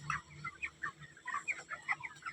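Chickens on a poultry farm cluck in a busy overlapping chorus, several birds close by with quick repeated calls over a low background hum.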